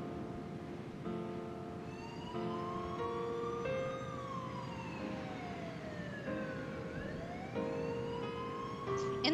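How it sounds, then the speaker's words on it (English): Several police sirens wail from a distance on a city night in Shibuya, their rising and falling tones overlapping and sweeping continuously over a steady background hum throughout, from the game 428: Shibuya Scramble. "In the distance, she could faintly hear the sound of police sirens."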